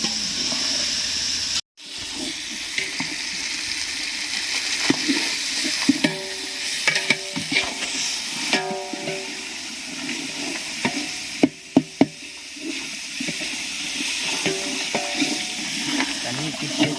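Masala for chicken biryani sizzles steadily in a pot while a spoon stirs it, with scraping clinks and knocks against the metal over the constant frying hiss, close up and fairly quiet.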